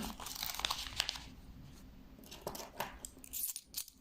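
A paper banknote is handled and crinkled close by, giving soft irregular rustles and crackles in a quiet indoor room, with a few sharper crinkles toward the end.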